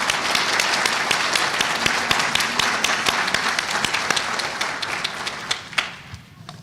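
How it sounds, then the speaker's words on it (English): An audience at the 2015 Organization of American Historians awards ceremony gives a round of applause, a moderate crowd of clapping hands with distinct individual claps standing out, thinning and fading away toward the end. "please give him a round of applause"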